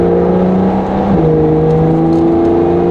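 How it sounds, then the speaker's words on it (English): A 2022 Porsche 911 992 GTS accelerating in Sport mode with active exhaust, its engine note loud and steady from inside the car, rising in pitch with a brief shift dip partway through. "I really do love how quick this acceleration is, and it just builds and builds and builds on top of itself."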